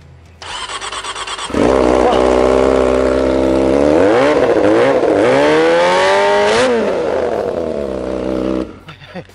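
A Kawasaki Ninja ZX motorcycle engine cranks, fires up and idles, then revs through several rising and falling throttle blips, loud and close, before cutting off; faint voices and background noise sit beneath it.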